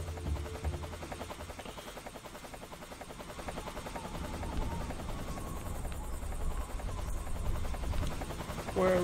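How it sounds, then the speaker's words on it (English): Helicopter in the video game Metal Gear Solid 3: Snake Eater, a continuous rhythmic rotor chop and engine buzz, fairly loud and steady, growing slightly stronger toward the end. "Where is that chopper?"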